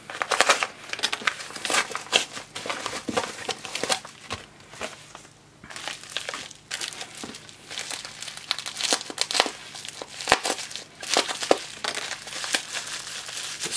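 Crinkly plastic packaging from a mailbag parcel is cut and pulled open, giving irregular bursts of close crackling and crumpling with brief pauses between.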